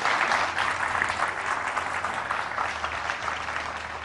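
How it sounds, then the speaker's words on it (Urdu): A studio audience on a Ramadan iftar television show claps for four participants in a loud, continuous wave that holds steady throughout and tapers slightly at the end. "آپ کی بھرپور تالیاں ہو جائے ہمارے چاروں شرکا کے لیے"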